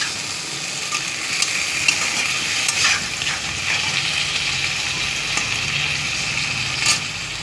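Onion paste is sautéed in a pan, a continuous sizzle with scraping stir strokes at irregular moments, close and fairly loud, with no talking.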